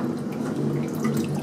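Dog walking on an underwater treadmill during rehab after TPLO knee surgery, with continuous close churning and splashing water and small drips, steady and moderately loud, no voices.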